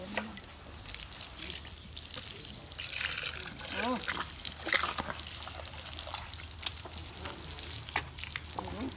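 A baby elephant drinks water in hot weather, with steady splashing and trickling throughout and small gurgles. People talk over it.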